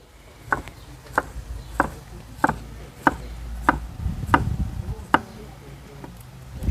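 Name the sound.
chopping garlic into slices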